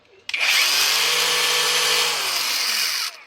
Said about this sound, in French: Voilà une meuleuse restaurée.